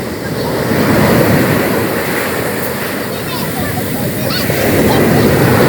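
Sea surf rolling onto a beach at Gazipaşa makes a steady, loud wash of breaking waves, layered with gusty wind buffeting the microphone throughout.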